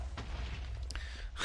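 A TNT explosion in the Minecraft modpack FTB Infi-Tech 2 gives a low, rumbling boom that fills the clip, with a few sharper bursts partway through and one near the end. It is loud and continuous, with no talking.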